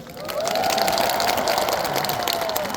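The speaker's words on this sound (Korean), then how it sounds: "박수 한번 주시겠어요?" An outdoor audience at a garlic food festival's closing concert applauds the county governor with steady, moderate clapping from the crowd that swells and holds for a few seconds, over a faint lingering tone.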